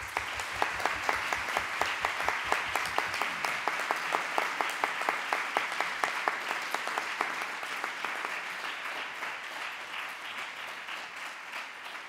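Audience applause after a lecture by Guy Standing on progressive politics in Spain, a long run of dense, rhythmic clapping that starts strong and slowly thins out over about twelve seconds.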